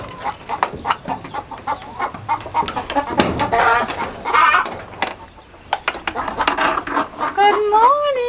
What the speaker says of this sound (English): they're singing the egg song in there, so I know they're laying.